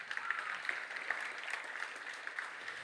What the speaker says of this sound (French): Est-ce qu'on peut applaudir doublement pour Sophie?